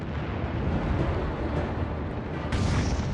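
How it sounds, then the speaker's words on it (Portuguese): The German battleship Bismarck's 381 mm naval guns fire at HMS Hood from about 15 km away in old German film footage. A dense, rumbling roar of heavy low booms is heard, with a fresh loud blast near the end and no speech. "Este filme alemão mostra os enormes canhões de 381 milímetros do Bismarck disparando contra o Hood"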